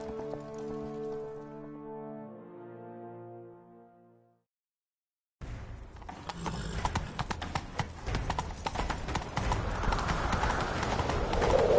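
A horse gallops in the video game The Witcher 3 with fast, rhythmic hoofbeats and steady clip-clop after a pause, following a few seconds of sustained musical tones that fade out.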